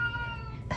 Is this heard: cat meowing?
yes